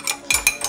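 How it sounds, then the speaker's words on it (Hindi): Sugar and desi ghee being stirred together in a bowl for cake batter. A spoon scrapes in quick, gritty strokes at close range, three or four short passes with no voices. "चीनी और देसी घी को मिक्स कर रही है क्या?"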